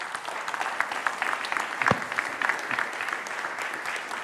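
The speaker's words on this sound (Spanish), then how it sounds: "denle un aplauso al Señor" A church congregation applauds, producing steady, moderately distant clapping that holds an even level for several seconds with a few sharper individual claps standing out.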